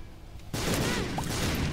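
A bomb going off in the video game King of the Void, a sudden loud blast that cuts in after a quiet moment and rumbles on with a dense, sustained roar.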